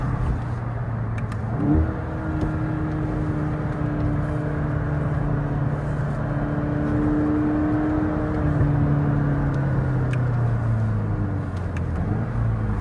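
A front-wheel-drive MK8 VW GTI accelerates hard with its tires spinning for traction, a steady loud engine drone rising and shifting in pitch over about thirteen seconds with no talk.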